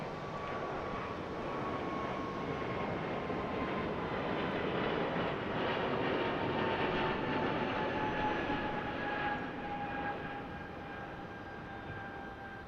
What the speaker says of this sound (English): Coming in from Salt Lake City, it's a Delta.